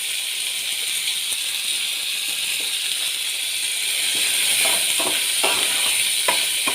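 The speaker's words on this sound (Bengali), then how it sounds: "পেঁয়াজ লঙ্কার সঙ্গে চিংড়ি মাছটা ভালো করে ভেজে নেব" Shrimp frying with onion and chili in a pan, seasoned with salt and turmeric, giving a steady close sizzling hiss with light stirring clicks and scrapes rising toward the end.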